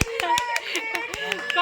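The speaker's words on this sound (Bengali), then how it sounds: "সবাই হাততালি দাও।" Hands clapping at a wedding: a quick, even run of about nine sharp claps from a few people nearby, with voices and chatter underneath.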